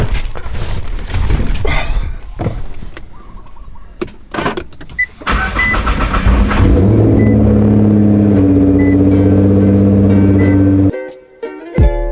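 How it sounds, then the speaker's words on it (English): Car engine cold-started in the morning in Hawaii, a series of clicks and cranking bursts before the engine catches and settles into a loud steady idle, then a brief pause and a few clicks at the end. "Let's get a little cold start for the morning."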